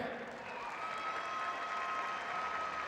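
Distant applause from the arena crowd honouring Nebraska student achievers at the 2013 NSAA Class A girls state basketball championship. The clapping is a soft, continuous wash heard from afar.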